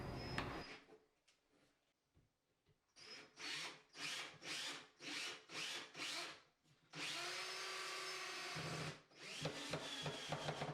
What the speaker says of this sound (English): I'm using 3-inch screws here to make sure we have a secure hold